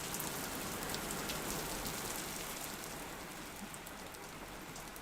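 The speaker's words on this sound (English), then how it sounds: "Well, the rain certainly came" Steady, close rain hisses and patters on surfaces without a break, an even dense wash of drops with no voices.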